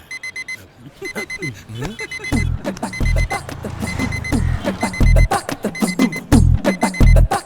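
An alarm clock going off in a comic film scene, a repeated electronic beeping in rhythmic bursts, loud and near, mixed with voices, thumps and other scene noise.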